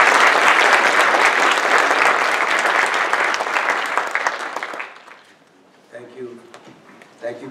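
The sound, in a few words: round of applause for Holocaust survivors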